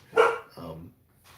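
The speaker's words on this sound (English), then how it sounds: "That's my dog" A dog gives a short, close bark, then a softer second yelp, and a faint trailing sound closes out the brief moment.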